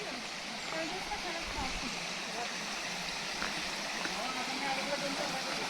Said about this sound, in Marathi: हे असं मस्त पाणी वगैरे पडतंय